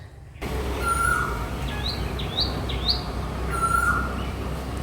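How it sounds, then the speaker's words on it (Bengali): Bird calls ring out on a calm, overcast morning among blossoming mango trees, where an Asian koel is calling. Several short rising whistles come in a loose series at moderate distance, with no one talking. "কোকিলের ডাক শুনেছ"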